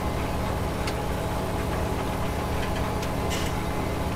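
A tractor engine in Farming Simulator drones steadily while pulling a plough, a constant low, even rumble with faint ticking and no breaks.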